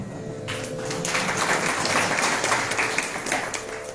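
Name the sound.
audience clapping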